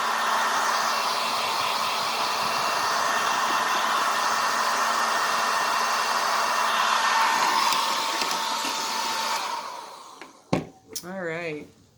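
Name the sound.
hair dryer drying a painted rock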